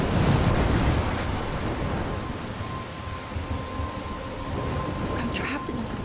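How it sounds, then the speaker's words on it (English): A thunderstorm with rain in Life is Strange: a dense, steady wash of rain and wind with low rumbling, and a voice speaking briefly over it. "I'm trapped in a storm?"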